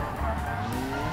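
A loud hot pink race-variant car in a video game skids with squealing tires and an engine roar, one continuous close burst.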